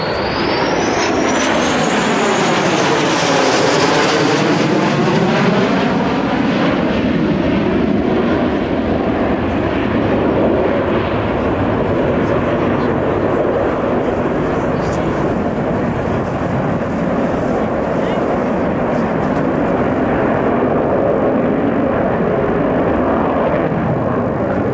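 A heavy supersonic bomber flies past at an air show at RAF Fairford, its jet engines a loud sustained roar whose pitch sweeps down as it passes, followed by a long rumbling wash of engine noise.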